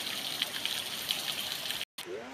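Cold spring water pours down over rocks at a hidden swimming spot in Sitio Sabang, Santa Maria, Iriga City, a continuous close rushing splash. It cuts out for a moment, then a voice comes in.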